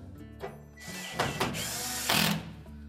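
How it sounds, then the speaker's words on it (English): A power driver whirs close by in a few short bursts as retaining screws are run into the back of a Whirlpool dryer, with brief mechanical clicks between. "we'll install the 2 retaining screws at the back"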